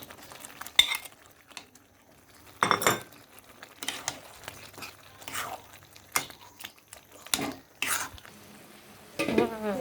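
Lentils and boiled taro leaves stirred in a pan, intermittent close scraping and clanking of a spoon against the pan over a faint low sizzle, with quiet gaps between strokes.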